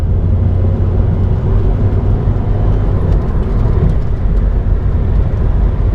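Steady, loud engine drone of a fully loaded Ford Transit Connect camper van with the 75 horsepower engine, pulling flat out in third gear, heard from inside the cab with a low rumble and constant road noise throughout.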